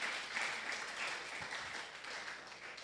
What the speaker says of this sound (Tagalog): malakas na palakpak sa Panginoon.